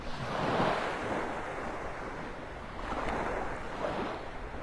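Ocean waves wash steadily onto a beach in North Naples, Florida, a continuous broad surf roar with gentle swells and some wind noise, no voices.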